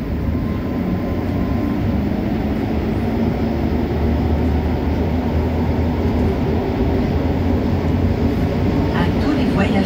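A Montreal STM metro train, an Azur or MR-73 on the orange and blue lines between Bonaventure and Fabre, rumbles steadily and loudly from inside the car, with a constant low roar for the whole stretch.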